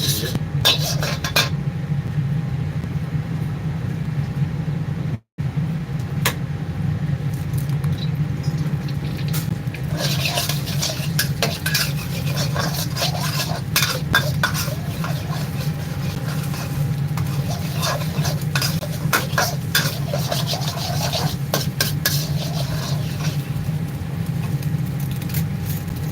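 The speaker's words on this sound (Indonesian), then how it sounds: "Oke, lanjut ke bikin nasi goreng kambing ya." Goat fried rice (nasi goreng kambing) is stirred in a pan, with constant metallic scraping and clattering over a steady low roar of cooking heat, lasting throughout.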